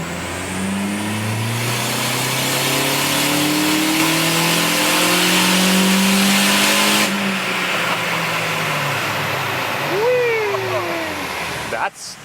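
A Toyota RAV4 engine revs hard on a dyno, a loud sustained mid-pitched roar that climbs and holds for several seconds, then drops away as the throttle closes, with a brief whine and clunk near the end.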